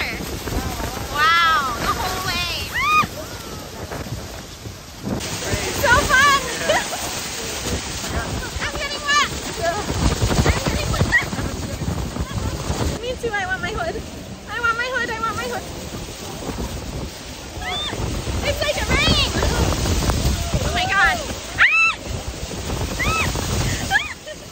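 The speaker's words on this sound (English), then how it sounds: "We are in the waterfall now." Loud, steady roar of rushing water at Niagara Falls with strong wind buffeting the microphone, while excited voices shout and talk over the din close by.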